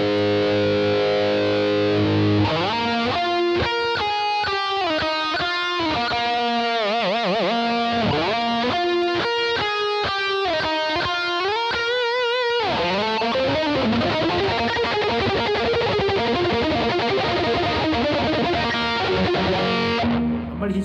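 Heavily distorted electric guitar lead from a Seymour Duncan Black Winter pickup in an Ibanez RG550 Genesis, loud and close, with fast picked note runs, sustained bends and a held chord ringing out at the end.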